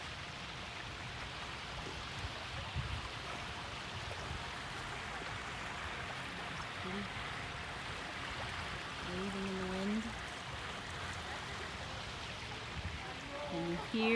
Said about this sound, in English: Can you hear the water in the background? Ah, wow. Just a very soft waterfall.